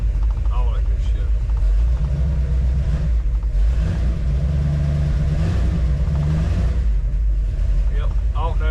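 A 1934 Ford Coupe engine idles and runs nearby, a steady low rumble with slight revving swells, while someone talks over it throughout.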